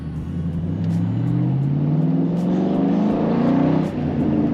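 A Ford Mustang engine revs up steadily in first gear, its pitch climbing through a long pull to about 4,000 RPM before easing off, loud and close with no talking.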